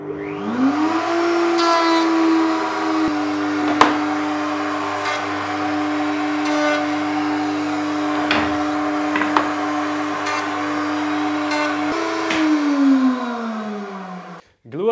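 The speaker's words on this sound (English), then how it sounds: "now clean up the remaining waste of the tabs here on the router table with a flush trim bit" A router table with a flush trim bit spins up and cuts wood, a loud steady motor whine with brief rougher bursts as the bit bites, then winds down at the end.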